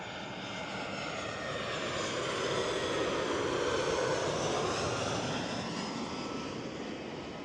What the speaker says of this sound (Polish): A to światełko nad tą wyspą to jest właśnie samolot, który będzie za chwilę lądował.